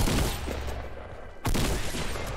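Fortnite gunfire in a dense, loud fusillade, two rapid bursts of shots with a brief gap between them, close and sustained with no talking.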